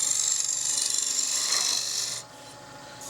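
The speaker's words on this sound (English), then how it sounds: "Now I will use the 1-inch square and scraper." A 1-inch square scraper rasps against a spinning cherry bowl on a wood lathe, a loud, steady, close scraping that cuts off partway, leaving the lower hum of the lathe running.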